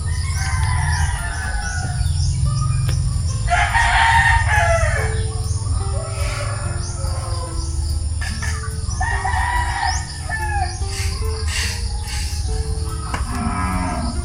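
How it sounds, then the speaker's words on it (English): Roosters crow repeatedly on a peaceful farm, loud and close, with cattle mooing in the background and birds chirping through a steady outdoor ambience. "You can hear the cows in the background, the roosters crowing, birds chirping."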